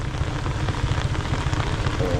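Heavy rain pours during a motorbike ride through Luang Prabang in a storm, a dense, steady roar of drops and rushing wind close around, with no pause or talk.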